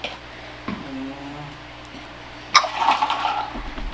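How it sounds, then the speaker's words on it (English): Almond milk creamer is poured into iced coffee, starting with a sudden splash and then a steady liquid pour that runs to the end. "Just pour that in."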